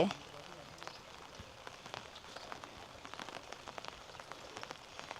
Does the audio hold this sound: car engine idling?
no